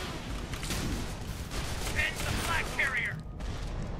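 Pistol and weapon fire in the video game Tribes: Ascend, a dense clatter of shots and impacts with someone talking over it.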